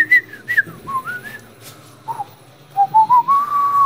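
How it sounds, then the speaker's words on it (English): A person whistles a tune alone, with short rising and falling notes early on followed by a longer sustained phrase near the end, close and clear. "If you guys think that the music I'm whistling right now"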